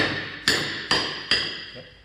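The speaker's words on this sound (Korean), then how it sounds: "이 쇳소리가 나거든요." Three evenly spaced blows from a steel hammer on a holdfast clamp, each a loud, close metallic clang that rings on and fades before the next strike.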